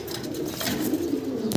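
Pigeons kept for sale coo in low, throaty rolls, close and clear for a moment with no talking.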